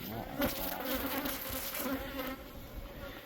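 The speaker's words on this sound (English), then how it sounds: "those bees are not happy today" Agitated bees swarm and buzz around an opened, insulated beehive, a dense, continuous drone close by with occasional louder passes.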